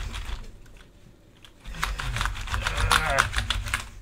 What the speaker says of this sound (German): Das ist so eine ganz leise Drucktastatur.